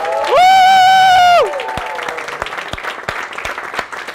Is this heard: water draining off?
no